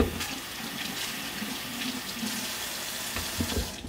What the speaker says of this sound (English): And we're gonna rinse it really quick.